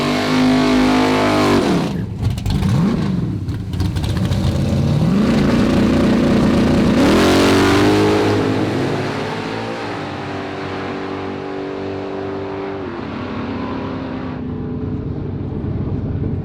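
Drag-racing street cars accelerating hard, a loud roaring engine that revs up in surges and gear changes before fading to a steadier drone as it moves away.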